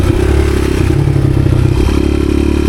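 A 1986 Honda XR200R dirt bike being ridden after an idle problem was fixed, its engine droning loud and steady throughout with shifting pitch and some clattering and thumps mixed in.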